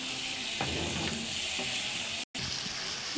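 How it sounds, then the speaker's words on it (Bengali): Eggs sizzling in hot oil with spices and pointed gourd in a pan, giving a steady close frying hiss with occasional stirring scrapes and a brief dropout partway through. "ডিমগুলো দিয়ে দিলাম, একসাথে সব কিছু 2 মিনিট মতো কষাবো"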